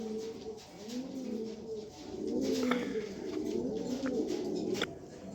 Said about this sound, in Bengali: এখানে একটা হাই কোয়ালিটির একবারে টপ কোয়ালিটির একটা সবজি লাইট কালার একটা নর কবুতর দিলাম।